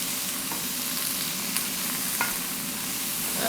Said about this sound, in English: stir them first so they don't stick